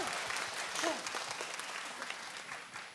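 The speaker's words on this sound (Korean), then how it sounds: "박수를 좀 더 크게 쳐주시면 한번 들어보도록 하겠습니다" An audience at a Korean talk concert applauds, a dense burst of many hands clapping at moderate volume with no voices over it, tapering slightly toward the end.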